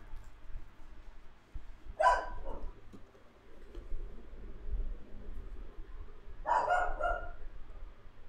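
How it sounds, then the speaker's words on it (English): A dog barks twice, a couple of seconds apart and at moderate distance, over a steady low background hum with no talk. "Can y'all hear the barking?"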